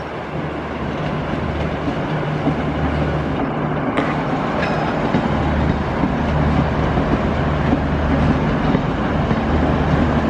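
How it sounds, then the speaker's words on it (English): A six-car VLocity diesel railcar rolls into Southern Cross station, its steady engine rumble and wheel clatter continuous and fairly close, with a brief metallic squeal partway through. "there's a 6-car velocity rail car coming into Southern Cross."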